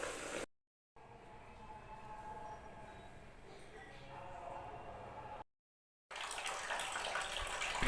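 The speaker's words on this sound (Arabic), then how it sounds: "وبنفس الطريقة أنا هغسل البطانية التانية" A blanket is washed in hot water mixed with cleaning powders, a steady close sloshing and running-water rush broken by two short silent gaps, with voices talking in the background.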